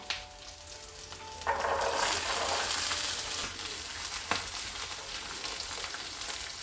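A cup of green peas drops into a hot pan with cumin and ginger, bursting into a loud, continuous sizzle that stays bright and even, with a few clinks of a spoon.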